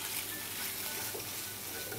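A spiced mixture for chicken keema potato cutlets fries in a pan with a soft, even sizzle and light crackle, quiet and continuous with no voices.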